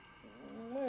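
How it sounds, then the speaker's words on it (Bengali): A dog howling somewhere off in the distance, a single faint, whining cry that rises in pitch over less than a second. "তখনই দূরে কোথায় একটা কুকুর কান্নার মতো করে ডেকে উঠল"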